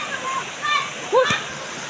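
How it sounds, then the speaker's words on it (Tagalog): Rushing water pours steadily at a waterfall in Corte Carmen, Cebu, a constant broadband roar beneath people talking nearby. "At dito nagsisimula yung tubig papunta dun sa ibabang bahagi."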